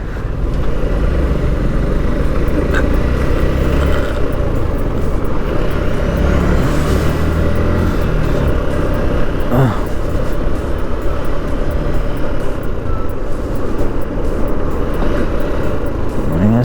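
Steady, dense rumble of many vehicle engines close by, with passing trucks and a brief hiss of air brakes, like slow-moving traffic backed up at speed breakers on the NH66 Mumbai–Goa highway.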